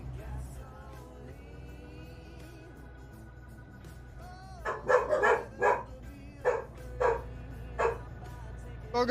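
Several sharp dog barks come in a rapid, irregular burst partway through, fairly close and clear above a steady low hum, following a stretch of quiet background tones.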